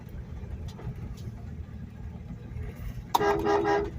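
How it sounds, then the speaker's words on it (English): A 1965 Plymouth Barracuda with a six-cylinder engine idles with a low rumble, then its horn gives one loud, sustained honk near the end. "horn works. Horn blows."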